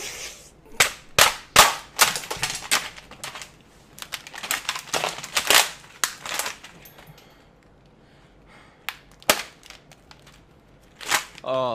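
Shotgun blasts in a first-person video game, a string of sharp close cracks in quick bursts followed by scattered single shots after a lull, with no talk over them.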